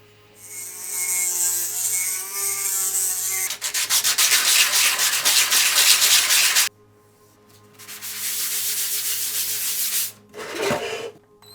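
Proton Pack build part sanded by hand after gap filling, in long rasping bursts of rubbing separated by short pauses, close and loud with no talking.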